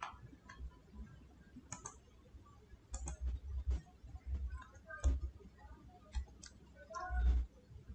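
Mouse clicks and computer keyboard typing on a Windows PC, a scattered run of sharp, close ticks and taps with a few heavier knocks, fairly quiet and with no talking over them.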